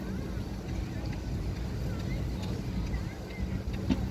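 Classic Wolseley car driving round an arena at a steam rally, a steady low engine rumble in the open air, moderately distant, with wind noise throughout.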